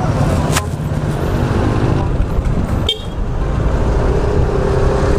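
A brief horn toot sounds over constant engine and road noise from a moving 2021 Yamaha NMAX scooter, with a short burst of rushing air earlier.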